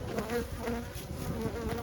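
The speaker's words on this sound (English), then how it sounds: "they were just boiling over with bees at the top of the hive" A dense, loud buzzing of many honey bees boiling over the top of a hive hums continuously up close, a thick droning swarm with no voices.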